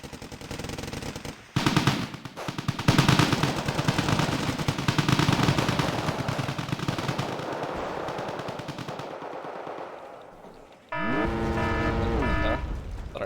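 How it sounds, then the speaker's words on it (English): Sustained, rapid bursts of artillery and gunfire from a Wargame: Red Dragon battle, loud and dense for several seconds before fading, followed by a short tonal sound. "Artillery fire?"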